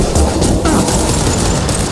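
Heavy, continuous gunfire roars in the video game Mass Effect 2, a dense and loud barrage with no break across the whole moment.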